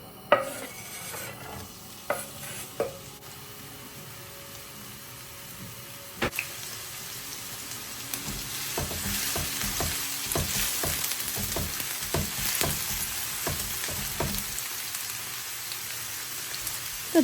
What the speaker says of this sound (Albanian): Në një tigan do të hedhim vaj dhe do të skuqim qepën për disa minuta.